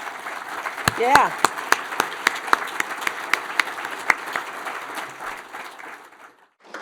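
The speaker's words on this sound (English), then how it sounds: "If you guys would please indulge me and stand and get a round of applause" A standing round of applause for board and committee members at a community State of De Pere event, a scattered crowd clapping with a few sharp near claps standing out, a brief voice over it, then it fades out.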